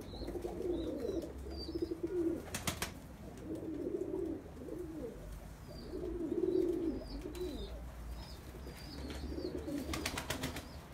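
Pigeons coo repeatedly inside a loft of Turkish racing and tumbler birds, soft low throaty calls rising and falling in overlapping bouts, with faint higher chirps and a few sharp clatters near the birds.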